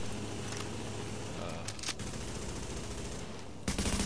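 Rapid video game gunfire shooting ornaments, a dense continuous rattle of shots with a few sharper cracks and a loud burst at the very end.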